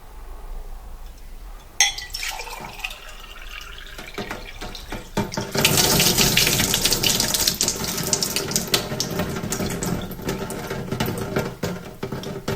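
Water pours steadily into a drinking glass, a continuous splashing stream that swells after a quiet start and stays loud and close, with no talking over it.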